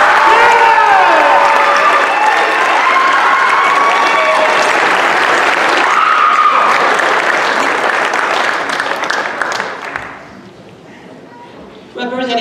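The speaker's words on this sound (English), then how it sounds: "Please join me in a round of applause for these departmental leaders." Sustained applause from an awards-night audience, honoring school departmental leaders, loud and dense throughout with cheering and voices mixed in, fading toward the end.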